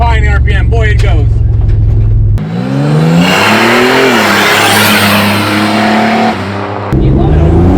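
Turbocharged AWD S10 Syclone pickup revving hard at high RPM: loud, close engine note sweeping up and down with a whooshing turbo rush, preceded and followed by steady idling with people talking over it.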